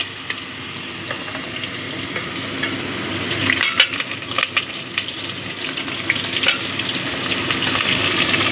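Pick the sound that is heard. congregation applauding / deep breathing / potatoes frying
potatoes frying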